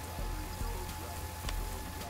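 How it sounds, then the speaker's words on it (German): Steady rainfall in the farming game Landwirtschafts-Simulator 19 makes an even, dense patter that runs unbroken, with a few soft thumps mixed into the wash of noise. "Der Regen ist ja leider hier mehr Regen, ne?"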